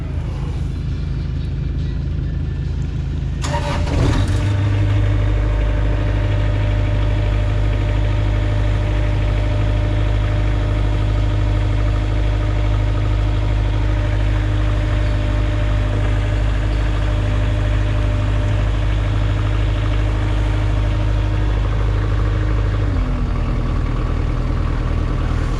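A Toro Reelmaster 5410 diesel five-gang mower engine cranks and starts after a few seconds, then settles into a loud, steady, low rumbling idle that shifts slightly near the end.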